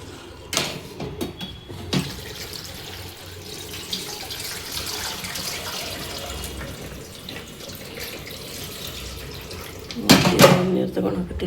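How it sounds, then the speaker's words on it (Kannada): Tap water runs steadily into a container being rinsed clean, a continuous splashing stream with a louder burst of gushing and clatter near the end, close by and without speech over it. "ಕ್ಲೀನಾಗಿ ಒಂದೆರಡು ನೀರು ವಾಶ್ ಮಾಡಿ ಬೇರೆ ನೀರು ಹಾಕ್ತೀನಿ ಇದಕ್ಕೆ"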